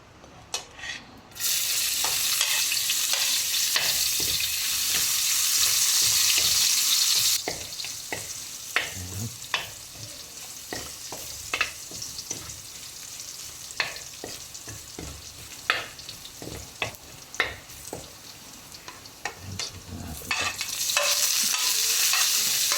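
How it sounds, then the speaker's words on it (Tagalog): Garlic and onion sautéed in a little oil: loud hissing as they hit the hot pan, then a softer continuous sizzle with repeated close scraping and clacking of a spoon stirring, without speech. "Gisa na po natin yung bawang tsaka sibuyas."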